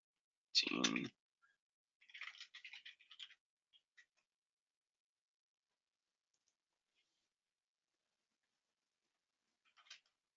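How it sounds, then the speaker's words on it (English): Faint clusters of soft clicks from typing on a computer keyboard, a short burst of keystrokes followed by a few scattered taps in an otherwise quiet room. "so I'm typing in the global chat right now"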